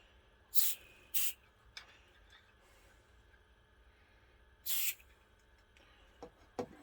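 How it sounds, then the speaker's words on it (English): Short hissing bursts of Super 10 switch cleaning lubricant sprayed into a Kaga green screen monitor during servicing, three quick spurts close to the mic followed by a brief fourth, in an otherwise quiet room. "I'm going to spray a little bit of Super 10 switch cleaning lubricant"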